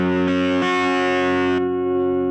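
A Yamaha Revstar Standard electric guitar with single-coil pickups played through distortion, sustaining a loud, thick overdriven chord that rings out alone, shifts once, then is cut back and fades into a thinner tail.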